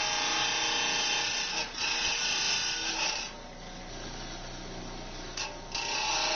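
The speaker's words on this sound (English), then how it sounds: "trim off most of the material with this trim saw so we save on the grinder" A trim saw grinds steadily through stone while roughing out a knapped point, a continuous bright buzzing whine with brief dips where the cut eases off.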